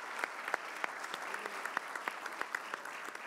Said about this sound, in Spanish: creo que un fuerte aplauso tanto a Juan,